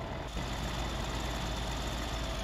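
A tractor engine in Farming Simulator 17, droning low and steady at a constant load, close and fairly quiet, without clear revving or changes in pitch.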